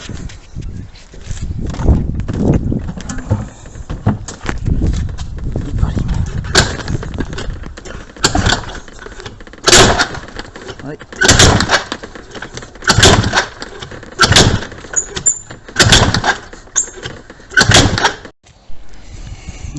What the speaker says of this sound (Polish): Skuter na chwilę łapie i zaraz gaśnie